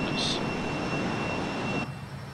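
Fokker F28 jet in a flight simulator, cruising fast at 5,000 feet over Australia, with a steady broad engine roar that drops away near the end and a speaking voice over it.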